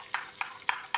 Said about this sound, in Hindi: अच्छी तरह इसको मिक्स कर लेना।